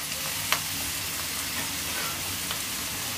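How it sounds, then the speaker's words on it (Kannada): Onion and tomato fry in oil in a pan for egg fried rice, a steady close sizzle with a few scraping knocks of the spoon as it is stirred, no voices. "ಈರುಳ್ಳಿ, ಟೊಮೆಟೊ ಎಲ್ಲ ಎಣ್ಣೆ ಬಿಟ್ಕೋಬೇಕು, ಅಲ್ಲಿವರೆಗೂ ಇದನ್ನು ಹುರ್ಕೊಳ್ಳೋಣ"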